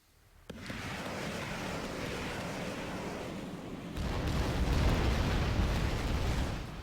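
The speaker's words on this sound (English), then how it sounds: "got welcomed by some shelling by a Gorgon and more artillery shredding more infantry" Artillery shelling from a Gorgon in the Rise of the Reds real-time strategy game thunders as a sudden blast that swells into a sustained, heavy rumbling roar, growing deeper and louder partway through, with no talk.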